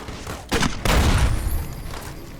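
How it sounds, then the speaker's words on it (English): Gunfire in Fallout: New Vegas during a fight with Powder Gangers, heard as a couple of loud, near shots or blasts with a long rumbling tail. "You're going to get shot at a lot."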